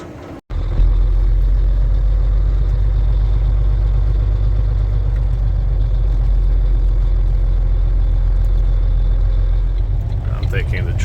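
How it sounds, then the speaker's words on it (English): A Volvo VNL780 truck engine runs close by, with a loud, steady low rumble that holds unbroken after a brief cut at the very start. "I'm taking the truck here,"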